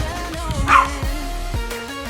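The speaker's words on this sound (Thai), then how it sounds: "น้องหมาเห่าอีกแล้ว" A dog barks several times in the background, a short run of muffled yaps layered over steady video game music.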